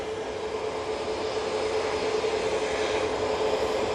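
A Loganair propeller airliner rolls out at Manchester Airport, its engines giving a steady, even drone with a faint tonal hum held throughout at moderate distance, alone without voices.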